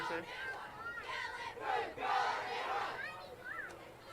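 Crowd in the stands at a high school football game, Morton vs. Forest, shouting and cheering: a mass of yelling voices that swells and dips in waves, fairly distant, with individual cries rising over the din.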